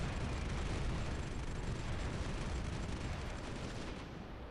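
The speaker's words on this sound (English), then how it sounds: "They will get hit by bombs." Bombs exploding on troops in the strategy game Supreme Ruler Ultimate produce a dense, continuous low rumble of blasts and gunfire-like crackle, fairly quiet and distant, fading slightly at the end.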